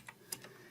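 Computer keyboard typing during a Windows PowerShell command entry, a few faint, sparse keystrokes spaced unevenly in a quiet room.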